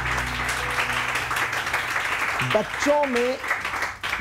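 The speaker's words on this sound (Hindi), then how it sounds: "तो इंशाल्लाह ये सनम के लिए बहुत सारी तालियां।" Steady audience applause fills the room throughout, with a voice briefly speaking over it partway through before the clapping continues.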